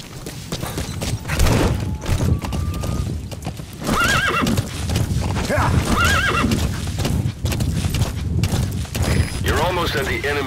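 Horse hooves clip-clop at a gallop with repeated whinnies and neighs in the Metal Gear video game, loud and continuous, with game voices and faint gunfire in the mix.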